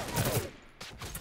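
Turret gunfire in the battle royale video game Realm Royale comes as a short rattling burst, a pause, then a second burst, fairly close and loud.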